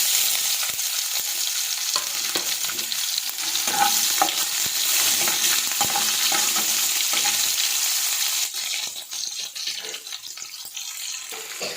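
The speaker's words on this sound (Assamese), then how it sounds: "পিঁয়াজটো ভালকৈ ৰঙচুৱা হ'ব দিছোঁ" Onion frying in hot oil with bay leaves for an Assamese fish curry, a loud, close, continuous sizzle with occasional stirring scrapes, easing slightly toward the end.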